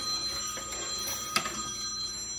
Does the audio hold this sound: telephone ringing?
yes